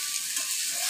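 Potatoes frying in hot oil give a steady, close, bright sizzle that holds at an even level throughout, with no voices over it.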